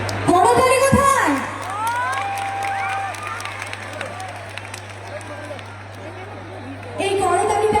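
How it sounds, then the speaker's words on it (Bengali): A crowd at a municipal fair stage event in Arambagh, Hooghly, claps and cheers in a continuous low roar beneath a loud announcer's voice, which comes and goes over the din. "জোরে জোরে চিৎকার আর করতালি চলতেই থাকবে"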